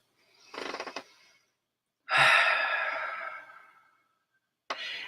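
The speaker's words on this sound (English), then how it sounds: "And take a deep breath." A deep breath during a guided relaxation exercise: a short inhale, then a long, loud sighing exhale lasting about two seconds, followed by the start of another breath, with no talking.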